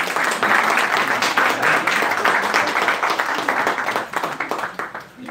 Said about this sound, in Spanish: Bienvenido, Padre Milenko, un aplauso a Padre Milenko.